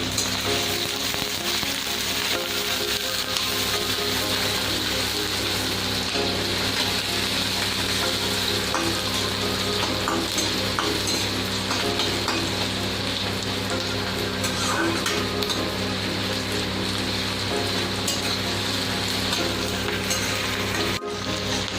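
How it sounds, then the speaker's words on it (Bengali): Chopped raw onion fries in hot mustard oil in a pan, producing an even, unbroken crackling sizzle that holds steady throughout at close range. "আমি সবার প্রথমে এটাতে দেবো হচ্ছে কুচানো কাঁচা পেঁয়াজ, পেঁয়াজটাকে সোনালি রঙের ভাজতে হবে।"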